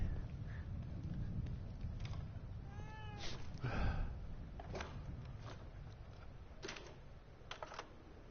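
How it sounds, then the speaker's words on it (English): A cat meows a few times in The Evil Within 2 video game, fairly quiet amid tapping and clicking game sounds, with no talk over it. "Hello, Mr. Kitty."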